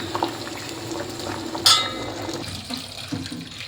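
Water boils in a cooking pot in a home kitchen, a steady bubbling wash up close, with one brief brighter splash partway through.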